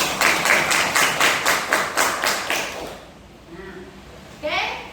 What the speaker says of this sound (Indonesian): Tepuk tangan kanan.